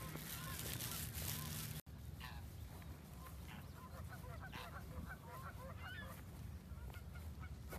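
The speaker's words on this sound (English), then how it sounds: "And there's some geese." Geese honking repeatedly in a scattered flock at moderate distance, a steady outdoor hiss beneath them, with a brief loud burst at the start.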